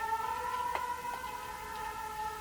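Ambulance siren wailing outside, a steady sustained tone with faint pitch shifts, carrying at moderate level through the whole stretch with no talk over it.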